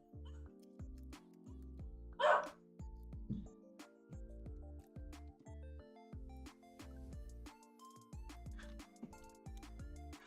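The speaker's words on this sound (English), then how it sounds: "You guys can definitely hear the dog in the background now." A small dog barks and yips in the background of a room, a few sharp distant barks over a continuous electronic video game melody.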